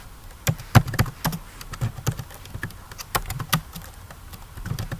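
Computer keyboard keys tap out placeholder text in an irregular run of crisp clicks, close and distinct, with short pauses between bursts and no voice heard.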